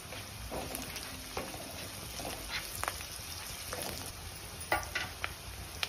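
Garlic sizzles in a pan for a cauliflower pepper curry, a soft steady fry broken by scattered clicks and pops from stirring.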